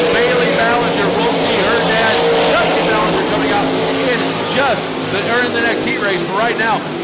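Vintage stock cars and RaceSaver sprint cars roaring around the dirt oval at Crawford County Speedway, loud layered engines rising and falling as cars pass, under continuous announcer talk over the PA.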